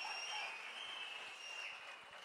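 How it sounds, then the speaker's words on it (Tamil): Hall-filling applause from an audience at a Tamilaga Vettri Kazhagam third-anniversary launch event, a steady dense wash of clapping running throughout at moderate distance. "ஒரு அரங்கம் நிறைந்த கைத்தட்டல் அண்ணனுக்கும் மாவட்ட செயலாளர்களும்"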